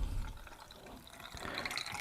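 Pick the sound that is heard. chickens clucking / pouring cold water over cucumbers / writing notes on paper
pouring cold water over cucumbers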